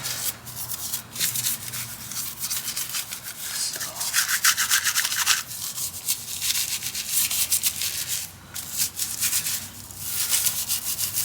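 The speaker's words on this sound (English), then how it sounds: "get our wheel brush, agitate our wheel" A wheel brush scrubs a car wheel coated in Diablo wheel cleaner, giving close, continuous rapid bristle rubbing and scraping with uneven strokes and a few brief lulls.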